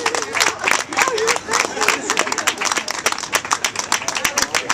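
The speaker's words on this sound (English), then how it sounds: "Give the kids a round of applause, too." An audience at a live Advent calendar show at Brew Works applauds for the kids, a burst of sharp, uneven hand claps with crowd noise, fairly close and lively, tapering toward the end.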